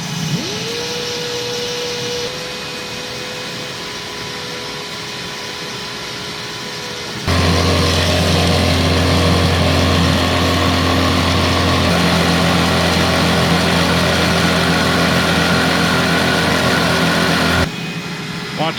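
A Eureka Express 8281 vacuum cleaner runs loud and steady through an airflow test, its motor whine shifting pitch partway through and swelling to a fuller, louder roar before cutting back near the end.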